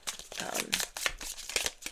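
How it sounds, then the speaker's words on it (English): Large decks of cards are shuffled up close, producing rapid bursts of crisp riffling and flicking in quick irregular rhythm, fairly quiet, with a voice faintly present underneath. "let me shuffle these in smaller"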